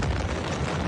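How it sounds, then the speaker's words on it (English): A massive ammonium nitrate explosion at a Beirut port warehouse, heard as a continuous, loud, dense roar with heavy low-end rumble filling the whole moment and no gaps. "The massive explosion in Hangar 12 was more powerful than the one that destroyed the nuclear reactor at Chernobyl."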